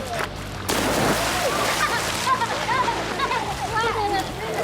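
Water splashes and sloshes in a kids' swim lesson as the swimmers climb into the pool, with an instructor and children talking over the busy, close splashing.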